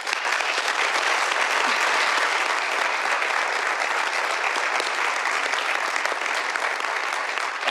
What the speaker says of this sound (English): Let's give them all a hand of applause.